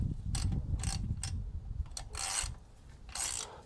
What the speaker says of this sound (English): Make sure you don't flip the ratchet back halfway through